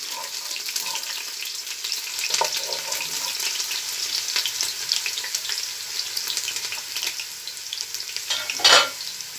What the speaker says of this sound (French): Une fois que notre huile a chauffé, nous allons y mettre les oignons. Nous faisons revenir nos oignons.